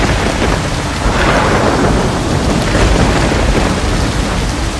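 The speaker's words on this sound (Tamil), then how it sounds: "கடும் மழையையும் இடிமின்னல்களையும் விருந்தாவனத்திற்கு அனுப்புவேன்." Animated storm effect with dense, heavy rain pouring continuously and loud rolling thunder merged into a constant roar, with no speech.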